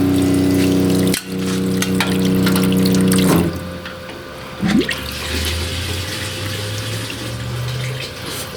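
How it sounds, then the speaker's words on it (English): A camper trailer's water pump hums while water runs from the tap into the sink, filling a bucket underneath; a steady hum and rush of water with a clunk partway through. "Turn the pump on. You've all heard sinks before. I've got a bucket under that."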